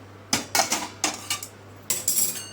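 Roasted chana dal is scraped out of a pan into a bowl, a series of metallic clinks and scraping bursts in quick clusters, close and fairly crisp.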